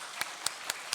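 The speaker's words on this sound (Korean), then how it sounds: "우리 감사의 박수 하겠습니다" A church congregation claps during a Sunday worship service, heard as a few scattered, faint claps over a steady hiss of room noise.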